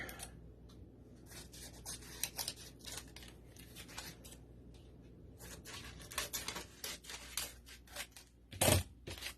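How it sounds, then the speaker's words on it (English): Repeated crisp snips of scissors cutting through paper, close up and fairly quiet, in irregular bursts with brief pauses between cuts. "Take the scissors and cut some of these hard edges off a little bit more."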